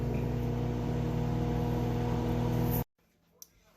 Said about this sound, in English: placing it in my microwave for 3 minutes